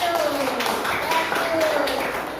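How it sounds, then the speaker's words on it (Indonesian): Students in a seventh-grade classroom clap for group 1, a short burst of steady hand clapping with a voice or tone sliding through the background. "tepuk tangan untuk kelompok 1"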